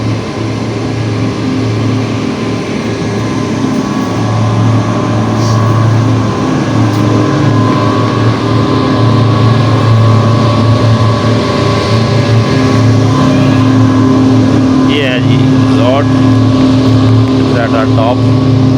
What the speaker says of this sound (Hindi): ये इंजन भी जी व्यूअर्स आपको बताएं कि ये इलेक्ट्रिक इंजन है, बिजली पे चल रहा है।